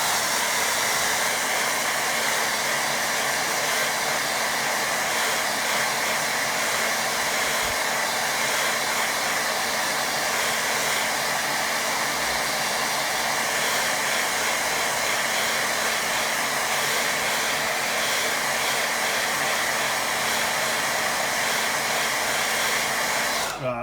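A hair dryer runs steadily for a long stretch while drying a watercolour painting of a windmill, a loud, even whooshing drone close to the mic with no talk over it.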